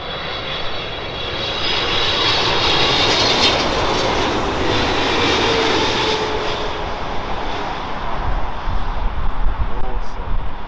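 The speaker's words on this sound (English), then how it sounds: "Qatar from Durham, the Boeing 777-300 with some gorgeous ribbons on its wings." A Qatar Airways Boeing 777-300 jet airliner roars past with a broad, loud engine rumble that swells and then holds, with a high whine on top and a deeper rumble toward the end.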